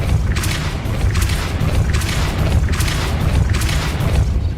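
Depulso force-push spell cast over and over in Hogwarts Legacy, loud repeated whooshing bursts with deep booming impacts roughly every second, no talk.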